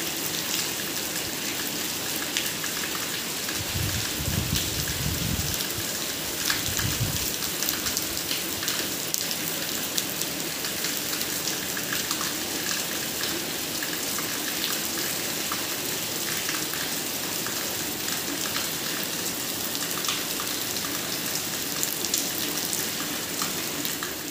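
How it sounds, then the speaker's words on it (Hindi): Heavy rain pours down in a dense, steady hiss that stays loud and unbroken throughout, with a few dull low thumps early on and no voices. "इतनी तेज़ वाली बारिश हुई थी, बहुत तेज़ वाली, आप देख सकते हैं।"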